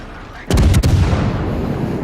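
Heavy naval guns fire in World of Warships against a battleship: a loud close cannon blast, a few quick sharp reports and a long rumbling boom that rolls on afterward.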